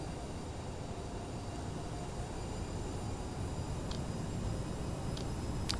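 Aerosoft CRJ 550 jet engines spooling up for takeoff in Microsoft Flight Simulator 2020, a steady broad rushing roar with a faint high whine, even and sustained throughout, no talking.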